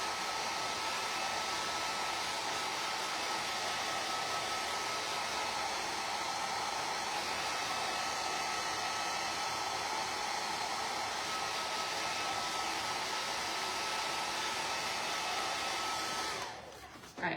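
A hair dryer blows a steady, loud broadband whoosh to dry metallic shimmer ink on vinyl, running continuously and alone for the whole stretch before cutting off at the very end.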